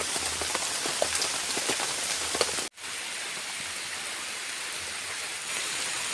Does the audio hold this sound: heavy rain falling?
yes